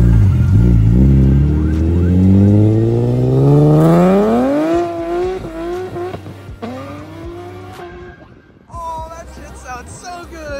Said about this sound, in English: I hear a dyno running and I see Mr. Nick's car.